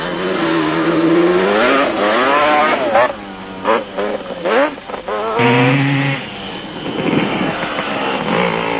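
Yamaha quad racing engines, including a Banshee, scream through an off-road race in South Africa, the 1996 Settlers 400, with repeated rising and falling revs as machines pass nearby, gear changes breaking the wail between bursts.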